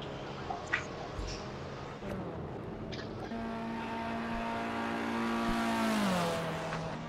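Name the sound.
car driving past in a video game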